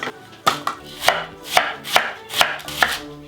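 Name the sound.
knife chopping red onion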